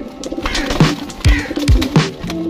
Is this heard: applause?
no